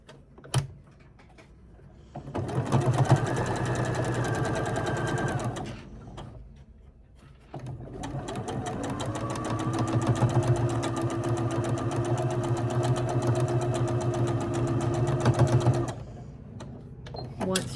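A sewing machine stitches a quarter-inch seam on a quilt block, running in two long steady bursts with a short pause between, its motor hum and rapid needle clatter close and loud.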